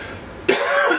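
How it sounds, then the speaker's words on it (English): A single sharp, close cough bursts out suddenly after a quiet indoor moment in a home kitchen, loud and raspy with a short trailing rasp. "I got one heck of a cough"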